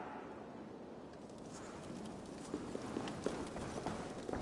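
Horse hooves clip-clop in Assassin's Creed Valhalla, a quiet steady trot over a low ambient bed, with the hoof knocks growing a little more distinct toward the end.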